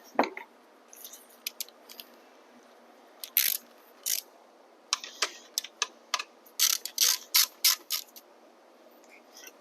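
Ratchet wrench cranking down the subframe bolts while installing a Luna Talaria XXX float seat, heard as short bursts of clicking strokes. The bursts come irregularly at first, then in a quicker steady series, close up with no talk.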